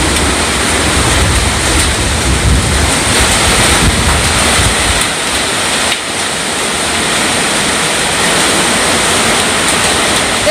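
A heavy storm pounds down outside in a loud, unbroken roar of dense broadband noise that stays steady throughout, with no voices.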